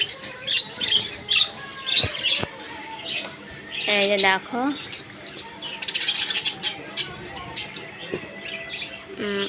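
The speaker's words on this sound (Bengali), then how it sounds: "দেখো কত সুন্দর একটা মুনিয়া পাখি" Munia finches in a home aviary give thin, high twittering chirps and short squawks, scattered and close, as a person speaks a few words.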